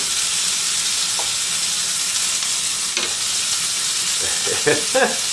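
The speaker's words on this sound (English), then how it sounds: "Stir my beans. I don't want them sticking." Beans stirred in a hot pan for a pork chop dinner, a steady broad sizzle with scraping spoon strokes and clinks near the end, close and alone without talk.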